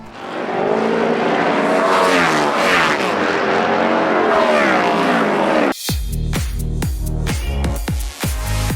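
Flat track racing motorcycles at the Sacramento Mile, a dirt oval: engines roar loudly with rising and falling revs, then give way to a series of sharp, close bikes blasting past one after another.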